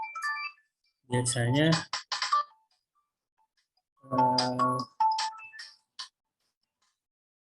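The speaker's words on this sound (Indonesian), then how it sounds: "sorry tadi ada telepon" A melodic phone ringtone for an incoming call plays in two bright bursts with a pause between, and a brief voice comes in near the end.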